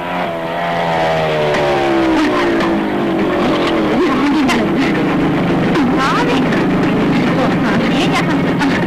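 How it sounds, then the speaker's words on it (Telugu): A motorbike approaching on a road in a film scene, its engine a loud, steady drone with a gliding pitch that keeps building over nearly nine seconds. "ఇప్పుడు ఆ రౌడీ రంగమ్మ, అదే ఆ అనిత మోటార్ బైక్ లో ఇటు వస్తుంది"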